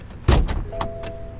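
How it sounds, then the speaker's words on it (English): A double-pull hood release on a 2021 Toyota Supra 2.0 is tugged twice, giving a loud mechanical clunk followed by a lighter second click and a faint latch thud, all close up inside the car. "Double pull hood release."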